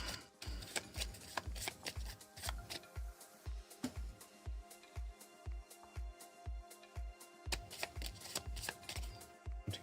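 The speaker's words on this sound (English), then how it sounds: "Once again, we're going to shuffle." A deck of cards for the Veilwraith card game is riffle-shuffled over and over, a quiet close series of quick rhythmic ruffling bursts.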